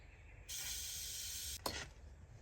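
Two short bursts of aerosol spray hiss close up onto a belt, a sustained spray of about a second followed by a brief second puff.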